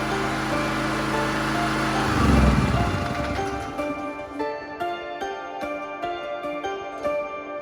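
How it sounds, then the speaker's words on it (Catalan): A homemade water-electrolysis engine runs close by, a loud rumbling surge early on giving way to a steady mechanical whir and ticking, with a regular pattern of faint clicks toward the end. "Podemos decir que la primera prueba del motor de agua ha sido un éxito."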